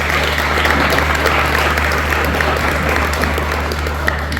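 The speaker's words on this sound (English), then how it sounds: "Please could we give our panel a round of applause?" A crowd claps steadily in sustained applause, dense and even throughout.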